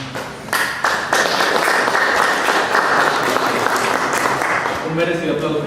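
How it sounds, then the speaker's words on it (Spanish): An audience at a closing seminar session applauds loudly and steadily, with a voice audible near the end as the clapping continues. "Un merecido aplauso para el Colegio del Estado de Derecho."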